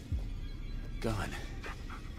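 Breathy panting from a dog in the Blair Witch video game, steady and close under eerie game ambience, with a voice murmuring faintly in the background.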